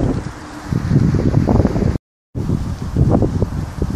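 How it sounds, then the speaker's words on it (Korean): Strong wind by the Han River buffeting the microphone with a steady loud roar and rustle, briefly cut to silence midway, then resuming as before; no talking. "저 자리에 오늘 바람이 많이 불어서"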